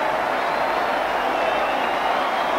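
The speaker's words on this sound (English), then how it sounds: "Francis takes the applause" A large crowd at a Leeds versus Bradford rugby league match roars and applauds after a try, forming a steady, loud, dense wash of cheering and clapping that never lets up.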